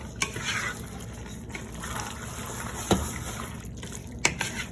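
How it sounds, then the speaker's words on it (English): Chicken and andouille sausage stirred in a pot, the spoon scraping in a few sharp clicks over a steady, close bubbling sizzle; no talking. "We're going to give that a stir."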